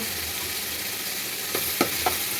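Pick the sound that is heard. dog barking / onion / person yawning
onion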